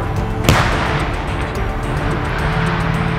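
A Ukrainian tank fires on Russian positions in a battle for Bakhmut, one sharp, heavy blast near the start standing out over a constant low rumble of engines and background noise.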